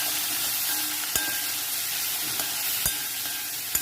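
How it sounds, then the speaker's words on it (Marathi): Chopped vegetables for sambar sautéing in a pan give a steady, close sizzling hiss, broken by a few sharp clicks of a spoon stirring against the pan. "भाज्या आपण त्या व्यवस्थित परतून घेऊया."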